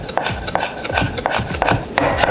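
A knife slicing red chili peppers into strips, with quick, steady, close-up cutting strokes repeating about three times a second and no voices.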